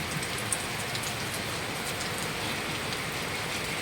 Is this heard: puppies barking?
no